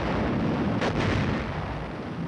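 Artillery fire during combat training, a dense sustained rumble of distant gunfire with one brief sharper burst near the middle, no voices.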